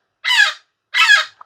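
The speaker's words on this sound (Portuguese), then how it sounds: "É um papagaio muito bonito. Ele é o maior papagaio do Brasil" Brazil's largest parrot gives two loud, harsh, raspy squawks about half a second apart, close by, with a tiny chirp after the second call.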